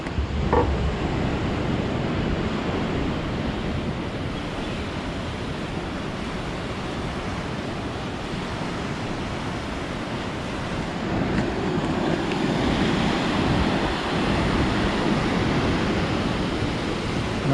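Thusharagiri waterfall roars with rushing water in a loud, continuous, broad rush that holds steady throughout, with some wind buffeting on the microphone.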